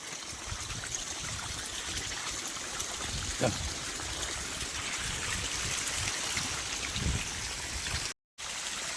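Irrigation water from a pump motor flows steadily into a field with a constant rushing trickle, close by and unbroken, with a faint thump now and then.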